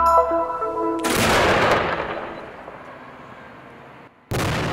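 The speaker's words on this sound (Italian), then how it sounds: "Un colpo di granata risuona a Gerusalemme" A Ramadan cannon shot booms over Jerusalem, a single loud blast with a long rumbling decay that fades over a few seconds before another burst of noise cuts in at the end.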